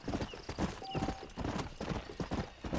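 Horse hooves in the video game Red Dead Redemption: a steady, close clip-clop of a horse moving at a walking or trotting pace, running continuously throughout with a faint background.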